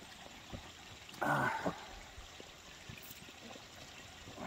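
Creek water runs steadily along a hiking trail in America, a soft continuous trickle close by and alone, with one brief louder rustle partway through.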